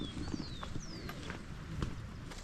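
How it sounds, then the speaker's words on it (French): Heavily loaded pack horses walking along a muddy mountain trek trail, with faint scattered hoof clops over soft ground, light background noise and a few thin high whistling sounds. "Oh mais comment ils sont chargés ces pauvres chevaux."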